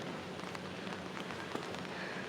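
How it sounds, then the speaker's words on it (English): Steady, fairly quiet tropical rain patter in Kuching, Sarawak, Borneo, with scattered sharper drops landing on a surface, no voices present. "It's raining here."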